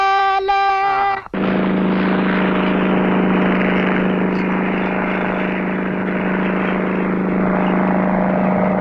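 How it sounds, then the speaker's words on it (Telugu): An airplane in flight produces a loud, steady droning engine hum throughout, preceded by a short tonal passage in the first second. "మీరెప్పుడైనా ఈ విమానం ఎక్కినారా"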